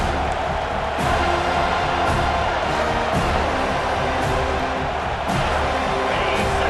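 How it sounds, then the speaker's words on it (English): Stadium crowd roars steadily on third down in a college football video game, Michigan against North Carolina, a dense continuous wall of cheering with periodic swells, loud and unbroken, no speech over it. "this crowd will blow out a vocal cord to help this defense"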